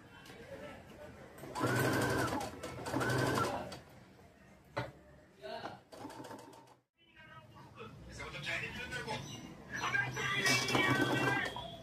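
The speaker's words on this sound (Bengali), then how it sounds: "পুরো রাউন্ডটা আমি ঠিক এইভাবে সেলাই করে নেব।" Electric sewing machine stitching around the edge of a frilled cushion cover, running in loud steady bursts that start and stop several times, with short pauses between runs and a longer final stretch.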